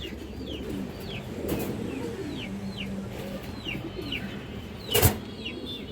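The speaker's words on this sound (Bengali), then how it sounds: "এটা কালো গলা মাদি কবুতর" Pigeons coo at a farm selling birds, including a black-necked female pigeon, soft repeated cooing under a steady background murmur, with a brief louder flap or bump near the end and no talking.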